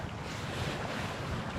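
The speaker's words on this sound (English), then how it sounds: "Sorry about the wind" Strong wind gusting steadily across a winter beach with surf, a loud, continuous roar buffeting the microphone throughout.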